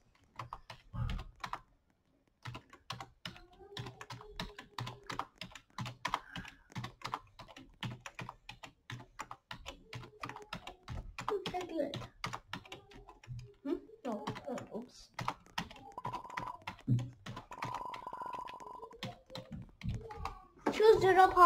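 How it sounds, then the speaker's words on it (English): Rapid bursts of computer clicks and key taps while playing Airplane 4, sharp close clicks in quick irregular runs, with people talking and laughing over them throughout. "I will spam click it"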